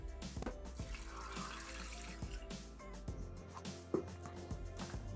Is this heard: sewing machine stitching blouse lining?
no